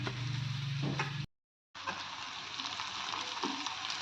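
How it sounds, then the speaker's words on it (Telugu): Okra, onions and tomatoes fry in a pan with a steady close sizzle, broken by a brief silent gap midway before the frying noise resumes. "ఉల్లిపాయలు టమాటా కూడా మంచిగా ఫ్రై అయింది, బెండకాయ కూడా మంచిగా ఫ్రై అయింది కదా"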